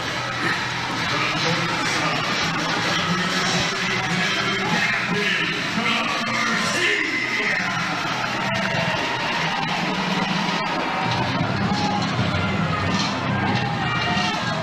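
Fans at an Oklahoma vs California NCAA softball championship game jeer the pitcher, a loud, continuous roar of crowd voices and shouts filling the stadium.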